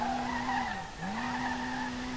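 A Nissan R32 drifting downhill on a track in SLRR, its tires squealing in a steady high whine that dips briefly in pitch mid-slide before climbing back, loud and close with no talk.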